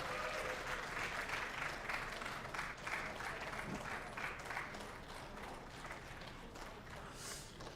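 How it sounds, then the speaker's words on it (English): Applause from the audience at the men's singles final of the Sixth Carrom World Cup, a sustained wash of clapping that holds steady throughout and sounds somewhat distant. "We will discuss the reason for the applause in a little bit"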